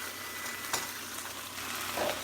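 Food browning in a pan during a Spanish-style cooking session, giving a steady, soft broadband sizzle throughout with a few brief louder crackles and spatters, no voices.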